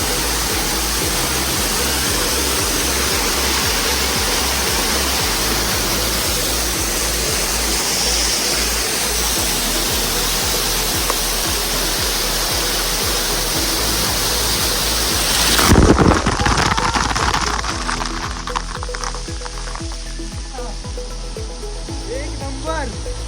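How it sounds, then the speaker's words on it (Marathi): Kundi waterfall roars up close in a constant, loud, dense rush of falling water, shifting abruptly near the end to a choppier, splashing texture as the position changes. "बघा वॉटरफॉलच्या एकदम जवळ आलो आपण"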